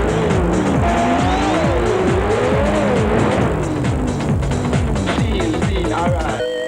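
Race cars in a racing simulation video game howl past at high revs while tires squeal in sweeping pitch glides, dense and loud throughout.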